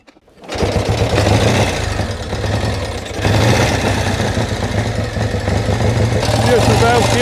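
A restored vintage motorcycle engine, a 1930 Sunbeam or 1935 Triumph twin, catches after a kick start and settles into a loud, even idle with a rapid mechanical chatter. It runs on steadily throughout, with voices faintly underneath.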